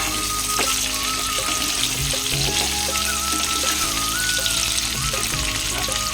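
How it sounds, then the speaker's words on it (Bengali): Pumpkin and pointed gourd frying in oil with salt, a loud, dense, continuous sizzle with faint clinks and low thuds of stirring underneath, close and alone. "লবণ দিয়ে ভালো করে ভেজে নিই।"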